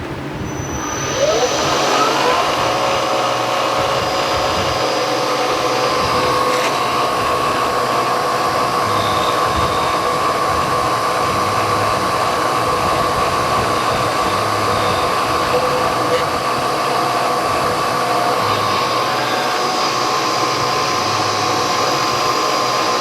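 A 5-cylinder radial engine runs steadily and loudly throughout, a constant droning roar with a sustained tonal whine and no pauses.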